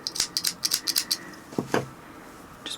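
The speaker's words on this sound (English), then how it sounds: "now I'm just going to cut the yarn" Scissors cutting crochet yarn, a quick run of crisp snipping clicks close to the mic, followed by a couple of softer handling thumps and one last faint snip.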